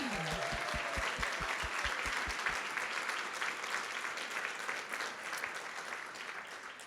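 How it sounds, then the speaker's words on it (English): A large luncheon audience at a philanthropy day event bursts into sustained, roaring applause that fills the room evenly, with a low musical thump fading out in the first seconds. "that roaring sound of applause"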